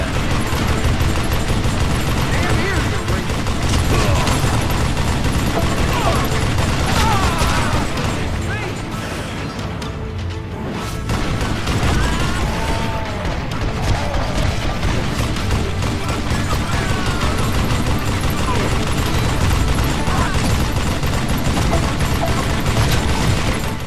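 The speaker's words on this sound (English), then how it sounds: "Slow motion Gatling gun." Gatling gun firing in slow motion in the Western game Call of Juarez: Gunslinger, a loud, dense, sustained barrage of distorted shots and mechanical clatter running nearly the whole time, briefly dipping midway before resuming.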